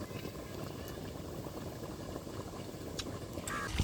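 A curry of shapla stems and prawns simmering in a pot, a low, steady bubbling burble that goes on throughout at a fairly quiet level, with a faint clink near the end.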